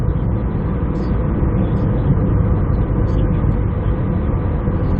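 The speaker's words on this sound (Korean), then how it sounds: "지금 오르막길에서 80km로 달리고 있는데 RPM이 지금 2000이 조금 넘거든요" A Chevrolet Trailblazer climbs a hill at about 80 km/h with the engine just over 2000 rpm, heard from inside the cabin as a steady, loud low rumble of engine and road noise that stays even throughout.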